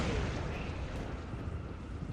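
A Praetorian Guard battle tank firing its cannon in Dawn of War, a dense, loud, rumbling barrage of battlefield explosions that fills the whole short stretch.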